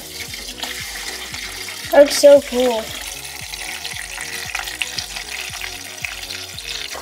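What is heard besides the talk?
water poured into aquarium tank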